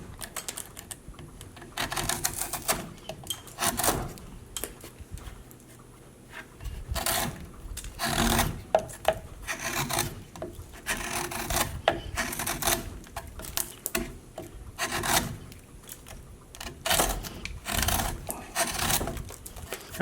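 A blade cutting and scraping into cottonwood bark, with irregular bursts of close scratchy carving strokes and short pauses between them.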